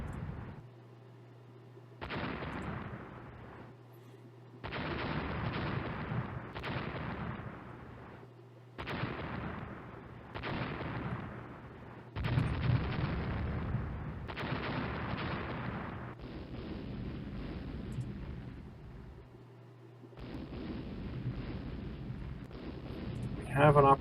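Six-inch naval gun fire in the Rule the Waves warship game, a long series of heavy, muffled booms in irregular rhythm with short silences between them, fairly faint overall.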